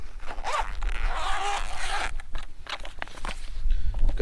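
Zipper on the back pocket of a Jackery solar panel carry bag being pulled open in a few rasping strokes, close and clear, with light handling noise and no talk.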